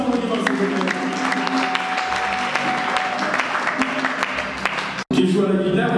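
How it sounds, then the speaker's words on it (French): An audience applauds for Christian, a guitarist and singer, with dense sustained clapping that fills the space, briefly cut off near the end and then resuming. "On applaudit pour Christian, on y va s'il vous plaît."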